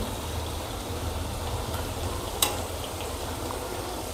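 Potato bhaji deep-fry in hot oil with a continuous bubbling sizzle, steady and close, broken by a single sharp click partway through.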